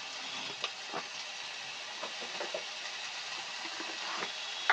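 Boiled potatoes and cauliflower are stirred in a frying pan, giving a steady close sizzle with soft scraping and clicking stir strokes scattered throughout.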